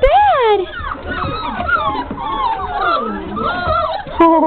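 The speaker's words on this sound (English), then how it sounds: "Blue Boy's right on top of that puppy right there" Five-week-old puppies whimper and yip in a continuous chorus of high, wavering cries, close and loud, with overlapping voices throughout.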